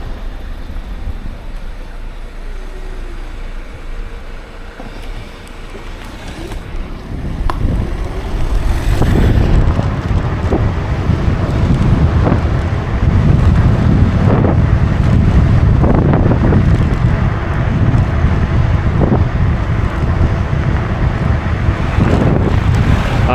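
Segway GT3 Pro electric scooter ridden in sport mode outdoors on a cold day, heard as a steady roar of rushing wind buffeting the microphone that swells louder partway through, with no talking.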